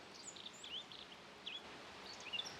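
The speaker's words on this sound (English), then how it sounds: "There's a lot of great bird activity here," Scattered high chirps and brief bird calls sound faint and distant in woodland by a bridge, over quiet background noise.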